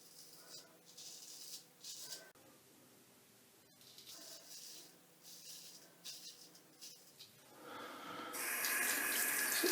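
A bathroom sink tap runs during a shave, turning on near the end as a steady, loud hiss of flowing water after quieter rattles and handling sounds.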